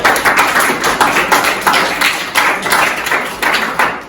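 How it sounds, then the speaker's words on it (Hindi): A small group claps at a school Basant Panchami event, the individual claps fairly close and distinct, their rhythm loosely pulsing and uneven through the whole stretch, with no one talking. "इन दोनों के लिए तालियां।"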